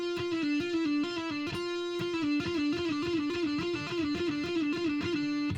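A guitar string is plucked over and over through heavy distortion and compression, holding one thick buzzing note that pulses with each pick attack in a steady rhythm, close and without any talk.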